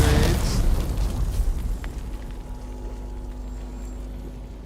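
Grenades explode in Dune Awakening. A loud, close burst opens the clip, followed by a few more crackling pops, then a long low rumble that slowly fades.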